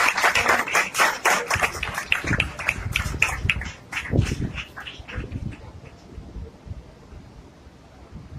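Loud applause from a crowd at a Christian gathering in Pakistan, with dense clapping for several seconds that then thins and fades toward the end, with no voices over it.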